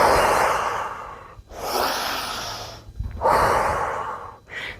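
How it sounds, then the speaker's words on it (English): Deep, rhythmic breathing during a strength and mobility home workout: three long, forceful breaths alternate with short pauses, loud and close, followed by a brief extra gust at the end, with no talking. "inhale deeply, exhale fully. Inhale deeply, exhale fully."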